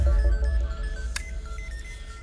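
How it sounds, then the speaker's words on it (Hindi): A phone ringtone chirps in short repeating tonal bursts at moderate level over a low rumbling background, with no voices during the ring. "रिंग हो रहा है।"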